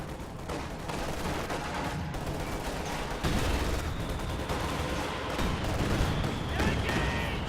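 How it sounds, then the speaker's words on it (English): A Katyusha rocket barrage in a World War II strategy game, heard as a sustained rumble of overlapping blasts and rushing launches. The noise grows heavier partway through, and a voice talks over it. "Wow, that was a really good Katyusha barrage."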